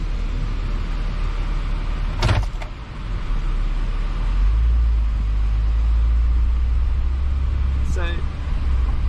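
A car drives slowly past building plots being cleared in Malaysia, its low engine rumble steady and close throughout with a brief clunk early on and faint background noise.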